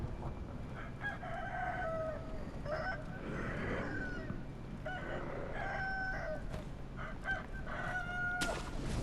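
Chickens in Sekiro: Shadows Die Twice's Mibu Village cluck and squawk in a string of separate calls, some close and some farther off, over continuous game ambience with no talking.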